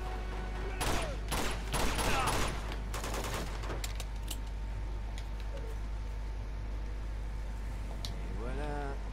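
Rapid bursts of automatic gunfire crackle in the Uncharted 2: Among Thieves video game during the first few seconds, followed by quieter game ambience, a lingering tone and a few scattered later shots.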